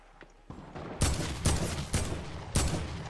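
Gunfire in the video game Fortnite: a few quiet shots followed by four loud, sharp bursts at roughly half-second intervals, each with a short decaying tail, close and with no voices.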